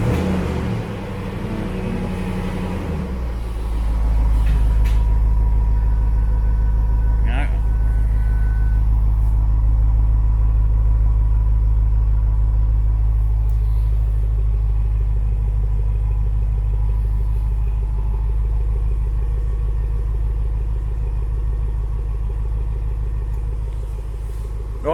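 A Range Rover Sport V8 engine settles from a brief rougher start into a steady, deep, loud idle rumble that continues unbroken for the rest of the stretch, with no talking.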